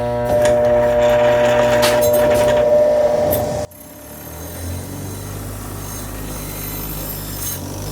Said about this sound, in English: I'm going to start by just knocking off some of the big rust